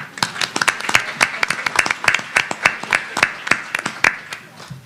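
An audience at a caregiver summit applauding themselves, a sparse, uneven round of clapping from a small group, individual hand claps clearly distinct and close.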